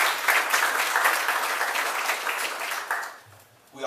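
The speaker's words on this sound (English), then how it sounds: "So let's give a warm round of applause for James Mitchell." A warm round of clapping from a community town hall audience rises quickly, stays steady, then tapers off near the end, ending in a short lull.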